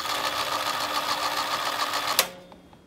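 A JM SCAR V2 gel blaster primed with a rapid mechanical whirring buzz for about two seconds, ending in a sharp click, followed by a couple of faint clicks, close and without voices.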